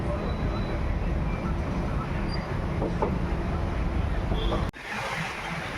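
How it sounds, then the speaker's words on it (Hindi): Wheels of the 22471 Bikaner–Delhi Sarai Rohilla SF Express rumble and rattle on a curved track just out of Bikaner Junction, heard loud and steady from the coach behind the locomotive before a sudden brief drop near the end. "यहाँ पे एक कर्व नज़र आता है जहाँ पे बहुत प्यारा ट्रैक साउंड आता है।"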